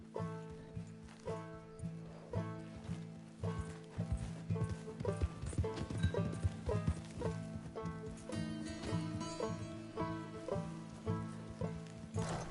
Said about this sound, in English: Just get on the horse.